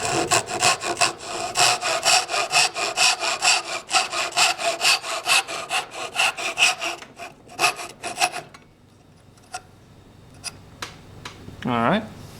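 A hand saw cuts a wooden dovetail joint in steady rhythmic rasping strokes, loud and close, then stops for a few scattered knocks and handling sounds at the end.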